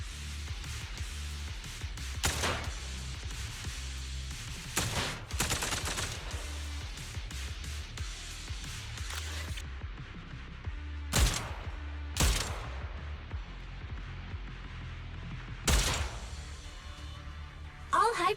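Rapid gunfire in a shooter video game fires in bursts of sharp shots over a steady bed of music and game noise, with several loud volleys standing out near the end.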